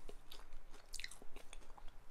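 Close crunching of crispy baked broadleaf plantain chips being chewed, a few sharp crackly bites over a steady muffled chewing texture, with no talking.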